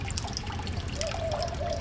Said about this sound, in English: So still you can see the water is coming from the tank,